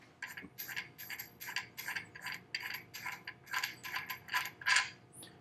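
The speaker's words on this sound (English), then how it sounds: "then we can unthread the barrel nut" A gun barrel nut is unthreaded by hand, giving a close series of rhythmic metallic ratcheting clicks and scrapes, repeated steadily for several seconds with no talk.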